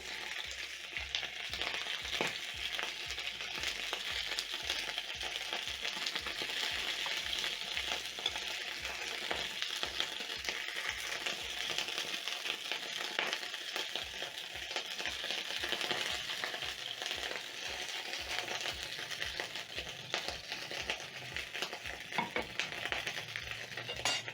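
Chicken sizzles and fries steadily in a pan, with occasional light clinks and stirring noises over the constant crackle.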